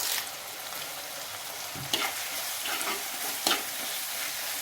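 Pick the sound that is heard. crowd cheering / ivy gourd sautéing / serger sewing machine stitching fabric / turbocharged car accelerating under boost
ivy gourd sautéing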